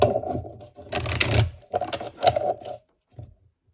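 Tarot cards being shuffled in several quick bursts, a riffling, papery flutter with short pauses between, close and fairly loud.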